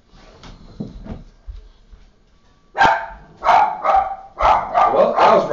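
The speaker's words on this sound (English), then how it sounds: "Why are you barking?" A dog barks in quick bursts nearby, a few sharp barks early and then a loud run of repeated barking in the second half, with indoor handling noises around it.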